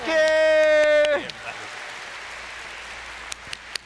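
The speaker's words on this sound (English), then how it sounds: "One more big round of applause, please." Audience applause at the Final Fantasy XIV FanFest NA 2023 keynote, a loud burst of clapping under a held musical chord that ends abruptly, leaving a quiet hall with a few scattered claps.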